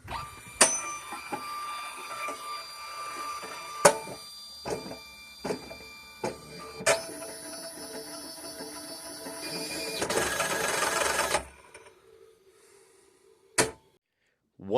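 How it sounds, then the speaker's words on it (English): A Lynx TT1000 107mm printer whose mandrel struggles to couple with its motor gives sharp clicks and clunks, then a rising mechanical whir that cuts off, followed by a final click in near silence. "One of the mandrels was having a hard time coupling with the motor"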